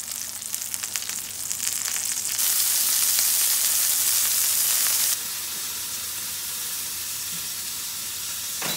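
Olive oil and butter sizzle steadily in a hot pan, a close, continuous hiss that swells louder for a few seconds and then settles back to a lower, even frying crackle.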